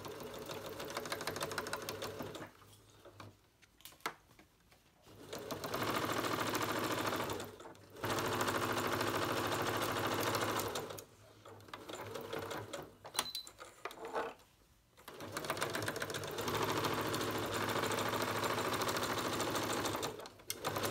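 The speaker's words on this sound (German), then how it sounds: "Das macht ihr auf beiden Seiten und näht die Naht einmal fest." A sewing machine stitches a seam on a small fabric tote bag in several steady, close whirring runs, pausing briefly between bursts, with no talking.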